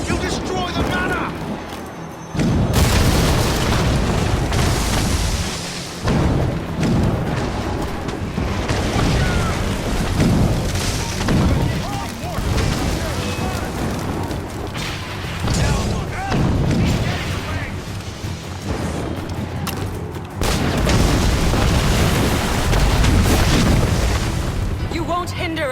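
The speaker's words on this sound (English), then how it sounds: "Chevalier is using mortars to stop Shay." Mortar explosions boom again and again in Assassin's Creed Rogue, loud and close, as deep blasts and rumbling crashes pile onto each other through a chaotic battle scene. Game character voices shout in between.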